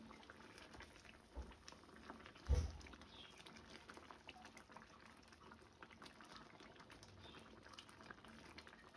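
A pot of prawn malaikari curry bubbles on high flame, a faint, steady boiling burble with a couple of brief louder knocks early on.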